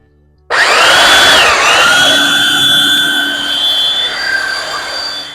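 A belt sander running on a wooden sink cutting board, starting abruptly into a loud, steady high-pitched whine with a shifting tone as it grinds the wood close by.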